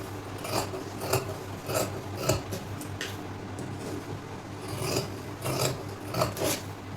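Scissors cut through blouse fabric in a series of about ten close, rasping snips at a fairly even rhythm, moderately quiet with no talking.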